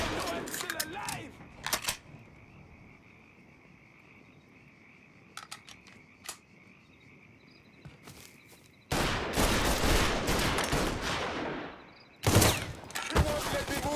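Mafia III shootout gunfire comes in scattered sharp single shots, then breaks into long, loud sustained bursts of rapid fire near the end. Voices shout between the volleys.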